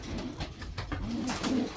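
Racing pigeons in a loft give soft, low, repeated cooing calls at close range over a busy background of rustling and flutter.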